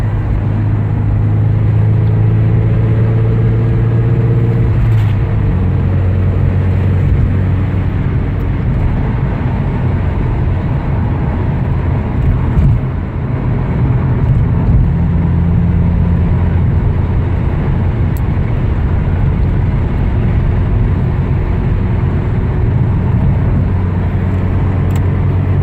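A 1986 Porsche 944 Turbo drives through Friday traffic with a steady interior engine drone and road rumble, close and continuous, with the pitch shifting as it changes speed.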